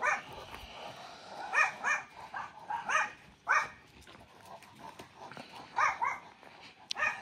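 Bully Kutta puppies bark and yip in short repeated bursts, some close and some farther off, with brief whimpers between the barks.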